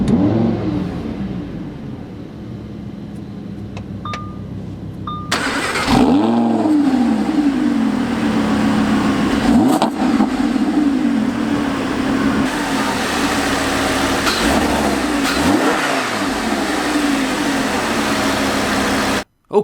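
A 2017 Lamborghini Huracan LP580-2 with a mid-rear mounted 5.2-liter V10 is quiet at first, then barks into life with a loud start. Several sharp throttle blips rise and fall over a strong, steady idle nearby.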